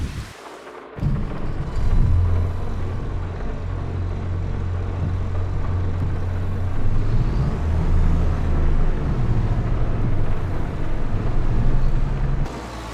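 A New Holland tractor engine in Farming Simulator 25 starts up and settles into a loud, steady low drone, rising and dipping slightly as it revs, heard alone without talk.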